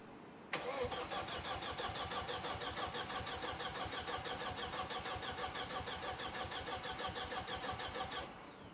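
A race car engine cranks over steadily on the starter for about eight seconds without firing while its fuel and oil systems are primed, giving a loud, even, rapid churning rhythm that stops abruptly.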